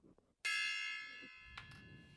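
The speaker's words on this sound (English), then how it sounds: "I'm gonna hit the gong right now." A single struck gong during a guided meditation rings out with a sharp attack and a long shimmering, slowly fading sustain, followed by a brief second metallic ring, in a quiet room.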